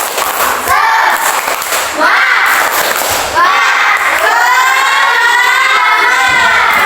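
A group performs a rhythmic spirit clap in a classroom, several bursts of clapping and cheering voices repeating in a patterned sequence, loud and close.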